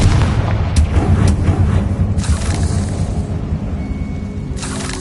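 A Confringo fire spell explodes in Hogwarts Legacy, a loud, deep boom with sharp crackling bursts that rolls into a sustained rumble and fades over several seconds.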